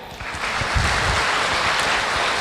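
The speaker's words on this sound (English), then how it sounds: "A round of applause for you guys." Applause from an audience at a large event swells up quickly and holds as a loud, dense roar of clapping mixed with low rumbling crowd noise.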